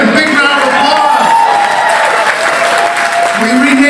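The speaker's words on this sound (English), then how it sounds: "A big round of applause." An audience at a gala breaks into sustained applause mixed with crowd cheering and scattered voices, loud and continuous throughout.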